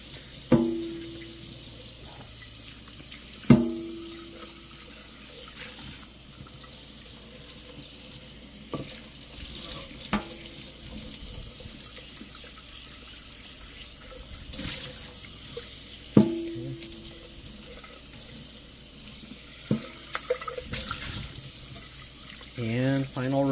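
Running kitchen faucet rinses a dish just sprayed with Dawn Ultra Platinum Powerwash, a steady water hiss with a few sharp clatters of the dish against the sink and some faint background voice.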